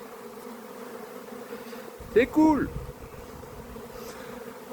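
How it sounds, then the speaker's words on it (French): A swarm of honeybees arriving at a garden hive in 2025 makes a steady, dense buzzing drone throughout, with a brief spoken remark from a man partway through. "Le ciel est noir d'abeilles."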